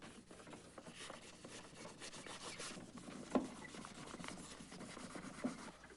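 Sandpaper corner rubbed into small cracks in a faux-finished wooden vanity, a faint, continuous scratchy rasping with a couple of soft taps, heard alone.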